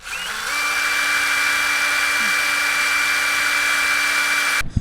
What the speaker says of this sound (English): So let's just see if I can drill this thing out and get it out.